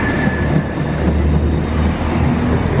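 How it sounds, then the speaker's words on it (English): Train rumbling past at close range, a loud, continuous low roar and rattle of rail cars that holds steady throughout with no voices over it. "Oh look, speaking of the train."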